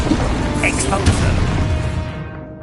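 A spell blast from the Hogwarts Legacy video game on PS5 at max settings, a dense broadband explosive burst with rumbling low end that sustains for a couple of seconds, while a voice calls out spell names over it.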